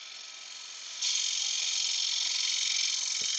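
A wood lathe spinning at about 2,500 RPM gives a steady high mechanical whir that steps up louder after a second and then holds constant, close and alone.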